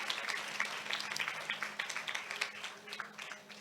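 Congregation applause at a church sermon, a steady patter of many hands clapping at moderate distance, with a low hum and some voice underneath.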